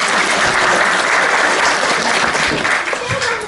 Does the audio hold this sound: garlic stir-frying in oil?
no